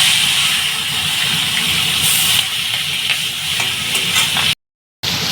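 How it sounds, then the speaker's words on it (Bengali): Prawns sizzle and crackle in hot oil with turmeric in a pan, a loud, continuous frying hiss with occasional stirring noises, ending with a brief cut to silence and then more sizzling. "এবার মাছগুলো একে একে করে ভেজে নেব"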